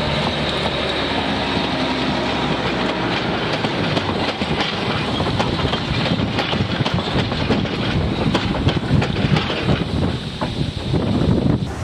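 Narrow-gauge railway train shunting wagons and locomotives at a small Hungarian station, with loud, close rolling rumble, clattering wheels and intermittent clanks over steady wind noise on the microphone.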